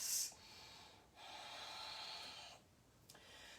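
Deep, steady breaths during a balancing yoga pose, with long airy inhales and exhales rising and falling in slow rounds, close and soft, with no talking.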